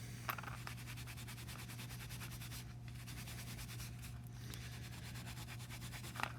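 Steel wool rubbed briskly over a metal washer to scour it shiny, a steady, close scratchy scrubbing with fast repeated strokes and a low constant hum beneath.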